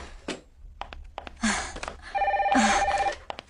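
Telephone ringing close by in a quiet room, two bursts of a trilling electronic bell with short pauses and light handling sounds between them.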